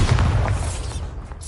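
A Bombarda spell explosion in Hogwarts Legacy, a loud booming blast at the start that rumbles and slowly fades away over about a second and a half.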